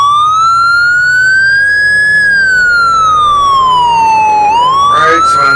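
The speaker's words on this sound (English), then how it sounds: "I have the actual siren sounds of the Montreal Police" A Montreal Police siren in a Flight Simulator 2020 mod wails loud and close, a slow rising and falling tone that dips and then turns upward again near the end.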